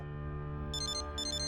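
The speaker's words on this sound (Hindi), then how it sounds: "फोन बज पड़ा वो।" A phone ringtone in a TV drama scene chirps in two short repeated bursts of high electronic trills over a steady low hum, fairly faint and unanswered.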